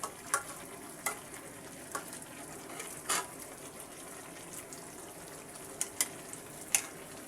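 Beef tripe curry sizzles and bubbles in a pan, a quiet continuous frying hiss broken by scattered sharp pops and spits, close and steady with no talk.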